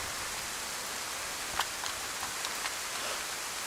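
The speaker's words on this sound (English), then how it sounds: "Rain in this scope though." Steady hissing rain falls in the survival game Livonia, a dense even wash with a few faint clicking drops standing out, no voices.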